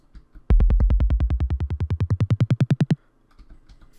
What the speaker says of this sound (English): Next we have stone, which is the bass drum and sounds like this.